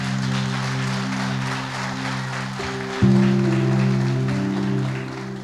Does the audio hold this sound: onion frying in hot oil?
no